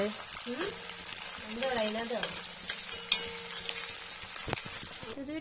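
Sliced onions fry in hot oil for birista, a steady sizzle broken by the scrape and clatter of a spoon stirring the pan, with a few brief background sounds.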